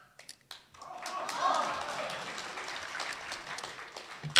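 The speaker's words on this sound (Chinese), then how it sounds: "就这个您还给鼓掌呢？" A theatre audience at a crossstalk comedy show claps in a sustained round of applause that swells and fades over a few seconds.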